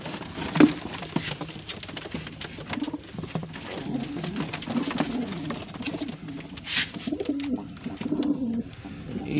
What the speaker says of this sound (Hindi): ये इसके साथ का नर भी देख लें, एक कस वाला कबूतर है